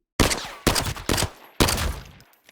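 Four sharp, loud pistol shots ring out close by in the Arena Breakout Infinite video game, spaced unevenly, each followed by a short decaying echo.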